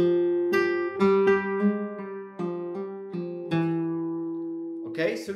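Flamenco guitar plays a bulerías falseta, thumb-picked bass notes with the index finger adding the first string, a series of clear plucked notes with ringing sustain, ending on a brighter strummed chord.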